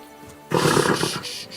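In Kingdom Come Deliverance 2, a horse gives a sudden loud snort or whinny that rumbles for about a second, following a quieter stretch.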